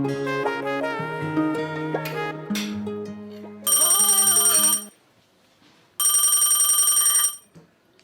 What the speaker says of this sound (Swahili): Mama anapiga simu.